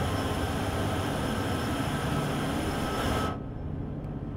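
Freight train in Train Sim World 2 climbing the Sherman Hill grade with three locomotives, a loud steady engine drone and rumble that drops sharply in level near the end.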